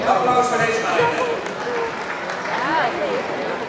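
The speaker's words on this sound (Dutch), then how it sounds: "Applaus voor deze meiden" A crowd at a beginners' tournament on mats in Markelo applauds a group of girls, a brief burst of clapping mixed with loud talking voices close by.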